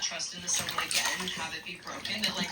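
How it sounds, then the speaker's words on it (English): Water splashes in short irregular bursts, close and fairly faint, with voices and noisy activity around it. "Keep splashing, you guys."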